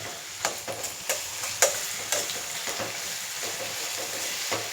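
Onions and a green chili paste with curry leaves and coriander fry in a pan, a steady sizzle broken by a few soft stirring scrapes, close by.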